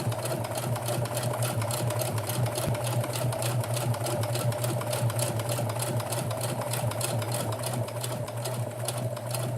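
A sewing machine stitches fabric at a constant pace, its rapid rhythmic clatter and hum steady and unbroken for nearly ten seconds.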